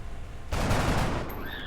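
Gunfire in the video game XCOM: Enemy Within, a sudden loud burst of shots erupting after a short quiet lead-in and ringing out for about a second before fading into softer game effects.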